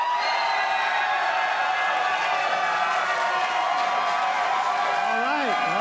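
A loud convention panel audience at Star Wars Celebration 6 cheers and shouts continuously, with some clapping mixed into the dense roar of voices.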